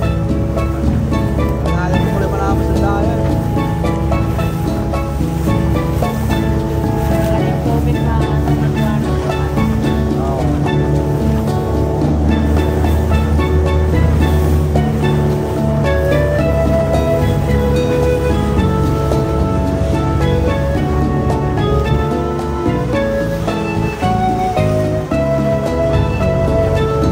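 Sea waves wash continuously during an island-hopping boat trip off Sual, Pangasinan, in a loud, steady surging roar blended with engine drone and a music-like tonal bed, without a break.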